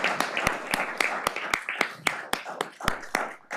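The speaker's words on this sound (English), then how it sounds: "Let's give Wyatt a big round of applause" Applause for an essay contest winner at a city council meeting, a few people clapping in sparse, uneven claps, nearby and moderately loud, tapering off toward the end.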